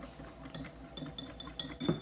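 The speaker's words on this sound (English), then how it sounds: "Dump that on in there, start whisking away." A whisk scraping and clinking against a bowl while stirring two cups of powdered sugar with lemon zest, giving soft, irregular metallic taps and scrapes that stay close and fairly quiet.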